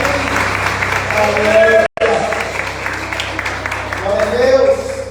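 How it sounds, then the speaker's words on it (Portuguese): A church congregation applauds the Lord, a broad, sustained roar of clapping mixed with crowd voices and a person calling out, briefly cut off by a short dropout before resuming. "Aplauda o Senhor, todas as pessoas"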